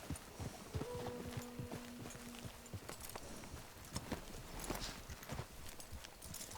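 Horse hooves clip-clop steadily in Red Dead Redemption 2 as a mount walks into a settlement, with a brief tonal game sound over the rhythmic steps.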